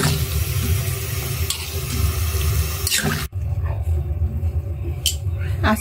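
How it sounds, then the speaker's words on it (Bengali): Hot water poured into a pan of meat that has been slow-fried in spices, a loud steady gushing and bubbling rush that runs continuously, briefly breaks, then resumes just as strongly. "মাংসটা অনেকক্ষণ কষানোর পর পানি দিয়ে দিচ্ছি,"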